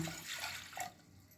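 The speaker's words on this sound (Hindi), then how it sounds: "पैन में डाल देते हैं एक गिलास के लगभग पानी" About a glass of water is poured into a pan on a gas stove, giving a brief, soft splashing gush that quickly fades to quiet.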